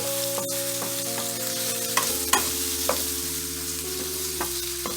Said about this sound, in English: now I'm going to just add my sausage in, and we're just going to mix that around